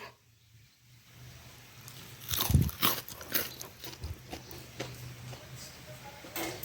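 Crisp crunching bites into fried coriander fritters made with mixed flour, a few sharp crunches in a quiet room, close and fairly loud, with no talking.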